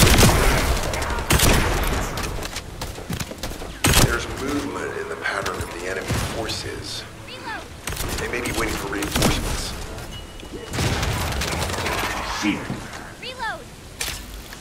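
Rapid automatic gunfire in the sci-fi shooter The First Descendant comes in loud, repeated bursts with mechanical clatter between them, while a voice talks over the action.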